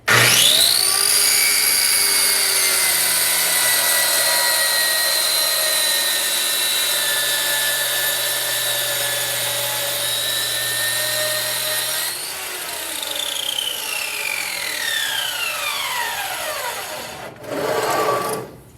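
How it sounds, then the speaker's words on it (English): A panel saw cuts through a wood sheet panel with a loud, sustained whine that lasts about twelve seconds. The pitch then drops away as the blade spins down, and a brief final burst of noise follows near the end. "So I'm going to make this cut on the panel saw."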